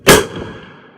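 A single sharp crack from an AR rifle fired at a 200-meter target, loud and close, with a short ringing tail that fades over about a second.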